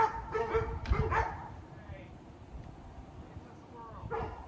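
A dog barks at a squirrel several times in quick succession nearby, with a voice talking underneath, then a softer bark or whine follows after a pause.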